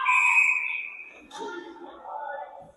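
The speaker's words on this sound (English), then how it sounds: "We get a whistle, but I'm not certain what for." A referee's whistle at an ice hockey game, a sustained shrill tone lasting over a second, followed by arena crowd murmur and rink noise.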